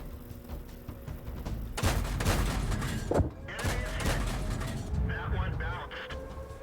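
Tank cannon shots in the World of Tanks video game on the Ghost Town map, a few sharp booming reports spaced over several seconds amid clanking vehicle mechanisms and game ambience.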